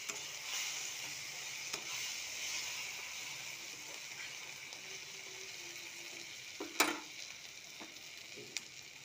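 Ginger-garlic paste masala for fish curry sizzles in hot oil in a pan, a steady bright hiss with occasional stirring clinks and scrapes nearby.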